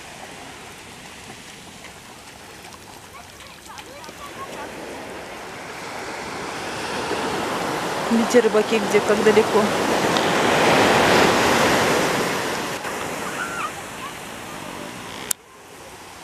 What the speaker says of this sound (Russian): Волна, волна идет.